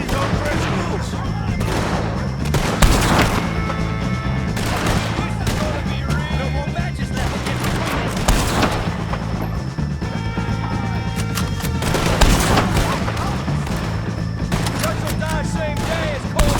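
Gunfire in Red Dead Redemption 2 rings out repeatedly over a noisy shootout, sharp cracks and crashes recurring every few seconds beneath music and shouted voices.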